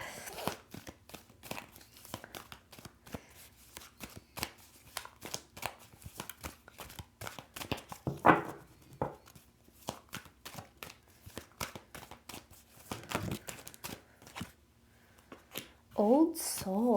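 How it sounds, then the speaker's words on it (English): Oversized tarot deck being shuffled, a dense run of quick papery card riffles and slaps going on steadily throughout, with brief louder bursts and a voice at the end. "I love this deck so much, but it is so big. It's so hard to shuffle sometimes."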